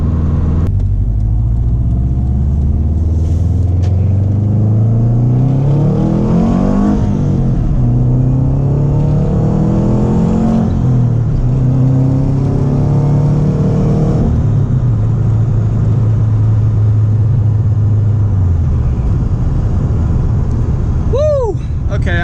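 A Subaru WRX with a newly fixed shifter pulls hard through the gears, its engine rumble rising in pitch, dropping at a shift and climbing again, heard loud from inside the car.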